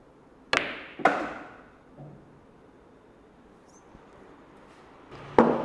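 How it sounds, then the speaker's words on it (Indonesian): A billiards cue strikes the cue ball for a follow shot: two sharp, close clacks in quick succession, then near silence, and another crisp knock after a pause, all close and alone. "kita akan menembak ke titik follow dari cue ball"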